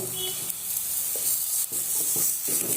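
Tomato sautéed with onion and garlic in a pan for crab soup: a constant close sizzle with a few soft spatula knocks and stirring scrapes, no talking.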